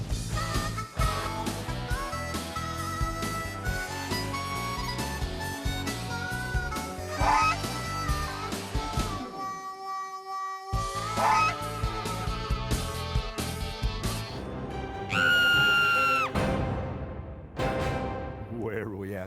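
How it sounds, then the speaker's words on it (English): A goose honks repeatedly and loudly in a series of brassy calls, mixed with music, a brief silent gap midway, then a final burst of honking near the end. "Goose, how did you get in there? You gotta leave."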